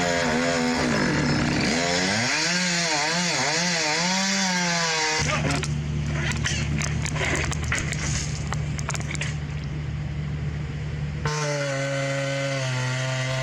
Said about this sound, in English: He's using his longest chainsaw, but he still must make several cuts in various directions.